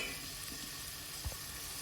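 Tomatoes and onions sauté in oil for a brinjal and dry fish kuzhambu, giving a steady, low sizzle close by with one soft knock partway through, and no voices.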